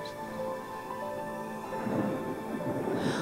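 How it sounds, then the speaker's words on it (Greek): Thunder rolls as a low, continuous rumble that swells toward the end, with a light patter like rain underneath and no voices. "δεν μ' αρέσουν οι κεραυνοί"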